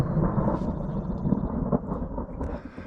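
A storm cell rolls over mountains near Yellowstone in early summer, bringing a deep, continuous rumble of thunder close by, with wind buffeting the microphone throughout.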